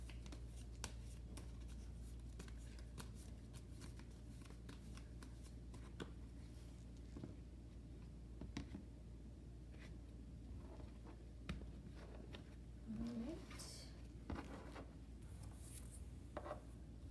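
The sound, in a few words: shuffling tarot cards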